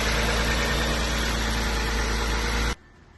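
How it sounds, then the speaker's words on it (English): A 1993 Mitsubishi 3000GT SL engine, just started after an intake plenum replacement, idles close and steady with an even hum, then cuts off abruptly near the end. "So as you saw, started up the car"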